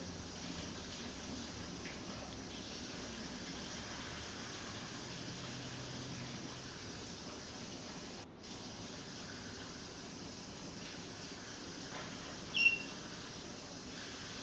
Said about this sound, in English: Just run that under more cold water here.